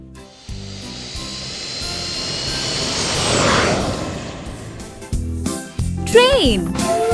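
Jet airplane engine roaring steadily, building to a loud peak mid-clip before easing, with a brief whooshing swoop near the end.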